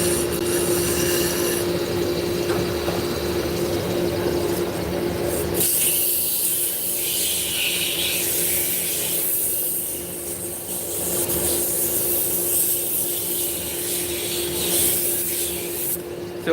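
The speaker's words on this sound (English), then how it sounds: "we're gonna start sanding it out" A wood turning spinning on a lathe is sanded, giving a continuous close rubbing and hissing abrasion over the motor's steady hum, with a sharp change in texture partway through.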